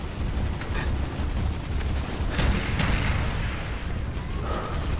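Dense, rapid bursts of gunfire in Call of Duty: Black Ops, with a few louder shots standing out against a constant rumbling backdrop of game audio.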